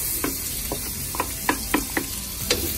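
Onions sautéing in a pan after garlic, heard as an even background sizzle broken by several sharp spatula taps and scrapes at irregular intervals.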